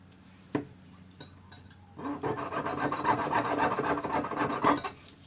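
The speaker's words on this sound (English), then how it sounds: "by holding this with my parallel jaw pliers, I can cut right against the pliers, and it guides my saw." A small saw cuts through wire held in parallel jaw pliers, guided against the jaws: a few faint taps, then a steady close rasping of fine back-and-forth strokes.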